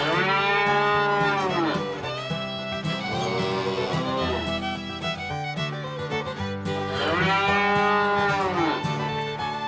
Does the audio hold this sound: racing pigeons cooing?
no